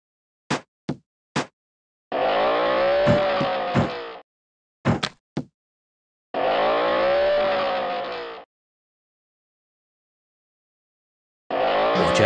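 Cartoon car engine in a Peppa Pig theme park video game, two sustained revving passes with a rising and falling tone, separated by brief knocking clicks, loud and close with no talk.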